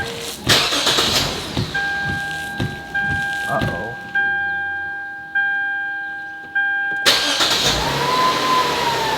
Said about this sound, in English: turn the car on, okay. We have power.